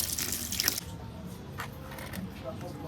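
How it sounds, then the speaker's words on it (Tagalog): Tap water runs while a pet land crab is bathed, a splashing stream that is loud at first and then settles into a softer trickle, with a voice talking over it. "Ayan, papaliguan na natin si Krusty Krab"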